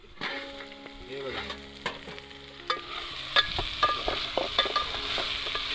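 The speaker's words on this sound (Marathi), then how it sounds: "आपण बटाटी फ्राय करून घेऊया फटाफट" Potatoes frying in a pan at an outdoor chicken cookout, a close crackling sizzle mixed with scraping and clinks of stirring that grow busier and louder toward the end, without speech.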